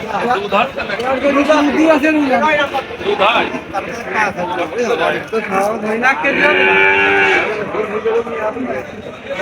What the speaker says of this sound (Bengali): এটা হচ্ছে ভাঙ্গুড়া গরুর হাট